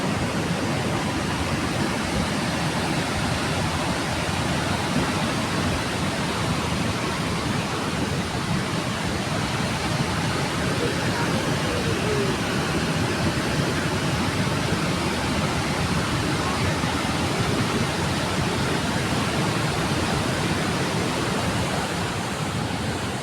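A swollen river where a bridge has washed away rushes in a dense, loud, unbroken roar of water that stays steady throughout, with no voices.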